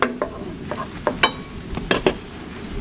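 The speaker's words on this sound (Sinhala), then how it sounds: "මේ නිවිති අනියන් ගාර්ලික් බටර් වලින් ටෙම්පරාදු වෙනකොට අපි මේකට දානවා මේ නිවිති ටික" Spinach tipped into onion and garlic sizzling in butter, a steady frying hiss under several sharp spoon scrapes and stirring knocks against the pan, close and clear with no talking.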